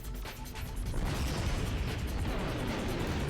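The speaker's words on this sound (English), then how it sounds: "she heard an explosion from outside the room" Explosion sound effect in the visual novel Root Double: Before Crime * After Days, a dense sustained rumbling blast with crackling debris that fills the whole clip at steady loudness, with no voices.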